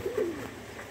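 Pet pigeons give a soft, short coo close by over a quiet background hum.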